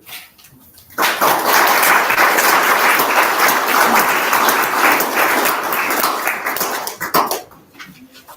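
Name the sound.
audience applause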